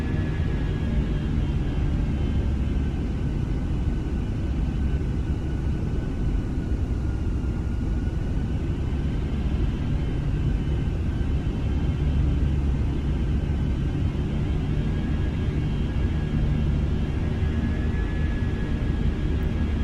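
Fenix A320 airliner with IAE V2500 engines on approach in a flight simulator, a steady loud cabin rumble and engine drone with a faint whine running unchanged throughout, no voices.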